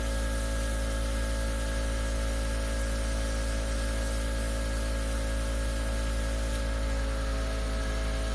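An airbrush sprays makeup foundation onto skin, making a steady, close hiss of air and mist that runs evenly without a break.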